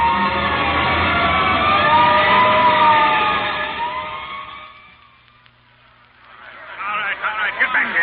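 Fire truck siren sound effect from a radio drama, a loud wailing siren rising and falling for several seconds, then fading before crowd voices and a second siren swell take over near the end.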